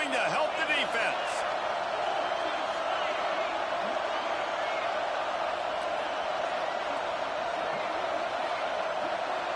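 A stadium crowd in a college football video game roars in a dense, sustained wall of noise that holds steady throughout, loud and continuous, with commentary voices underneath.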